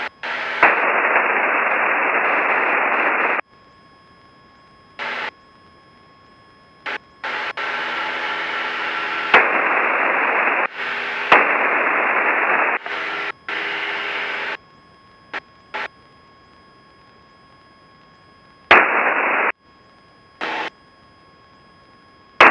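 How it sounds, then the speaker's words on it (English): Loud bursts of radio squelch static on a fly fishing trip, with harsh hissing noise switching on and off in irregular blocks of a few seconds, broken by brief clicks and quiet gaps, with no talk over it. "I gotta check this squelch, it's gonna be a little loud here."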